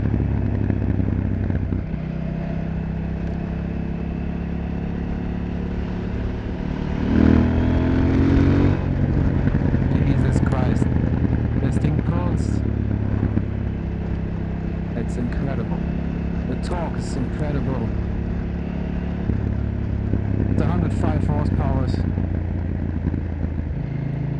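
A Husqvarna Svartpilen 801 motorcycle rides along with a steady engine drone that rises briefly as it revs, while a rider talks over the engine and wind noise fills the background.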